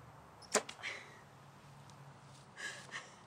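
An arrow is loosed from a bow in a Katniss-style archery outtake, giving a sharp snap followed by a quick whoosh, then another softer release-like swish later, all fairly faint with no talking.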